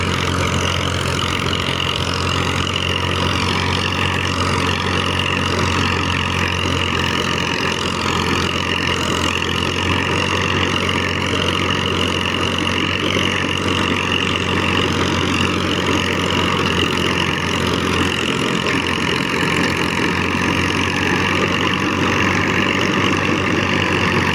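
A Massey Ferguson 36 tractor engine runs steadily in low gear, loud and close, with a droning mechanical hum and churning noise from the rotavator tilling fodder stubble, continuing without a break.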